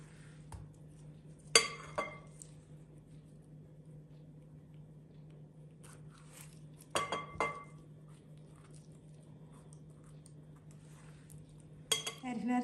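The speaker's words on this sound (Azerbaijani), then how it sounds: "Və sonra çəngəllə 1-2 yerinə deşik açırıq." A fork pricking apricots in a dish while making almond-stuffed apricot jam, heard as a few sharp metallic clinks spaced apart against a steady low hum.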